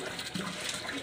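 Water gushes steadily out of a pipe while monkeys drink from it outdoors in summer heat, a continuous close splashing flow with no break.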